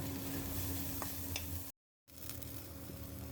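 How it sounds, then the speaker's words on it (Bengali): Green chilies and onions frying in hot oil, a steady close sizzle with stirring scrapes, cut by a brief silent gap before the frying noise resumes. "কাঁচা মরিচ দিচ্ছি আর পেঁয়াজ দিচ্ছি, একটু ভেজে নেব"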